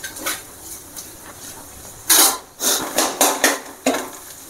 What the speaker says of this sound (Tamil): நல்லா வதங்கும் போது 1-2 ஆப்பிள் துண்டை நம்ம இதில் அப்படியே உடச்சி விட்டுக்க வேண்டியதான்.